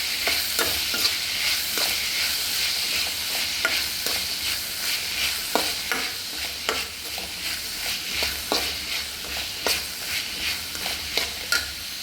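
Corn rice frying in a pan with masala, stirred steadily under a constant sizzle, with repeated scraping strokes of the spoon at close range and no voices.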